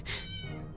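A cat meows once in the video game 60 Seconds, a short, clear, close mew that fades quickly.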